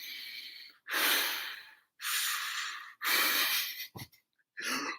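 Someone breathes heavily in a rasping, Darth Vader-like way: four loud, drawn-out breaths, close to the mic, with a brief snort-like catch between the last two.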